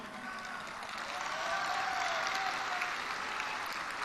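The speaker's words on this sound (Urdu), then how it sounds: "ایس پی صاحب آپ کو تالی مار رہے سب لوگ، لاہور کے لوگ" A large audience in Lahore applauding at a live public lecture event: sustained, dense clapping from a big crowd, steady and fairly distant, swelling slightly and holding throughout.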